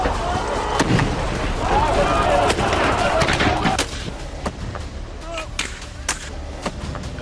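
Gunfire in the streets of Gaza during an Israeli assault, with sharp scattered shots cracking out one by one at irregular intervals over a rough, noisy background, some close and some farther away.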